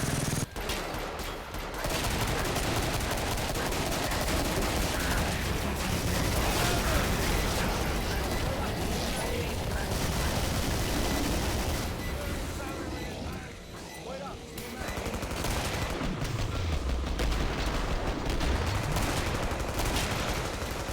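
Heavy gunfire from the M99 sniper rifle in the video game Killing Floor, a dense, loud barrage of shots and explosions running almost without a break under talking voices.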